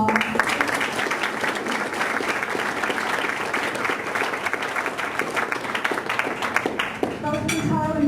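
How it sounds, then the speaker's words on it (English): Audience applause fills a conference room after a web analytics marketing talk, a dense steady clapping that holds throughout and thins slightly near the end. "A big round of applause."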